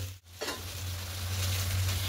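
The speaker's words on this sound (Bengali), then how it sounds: "এবার এই ম্যারিনেট করাটা এখানে দিয়ে দেব। খুব ভালো করে মশলার সঙ্গে মিশিয়ে দেব।" Marinated loita fish mixed into spices in a hot pan, giving a loud, continuous close sizzle with a brief dip near the start before the frying surges back.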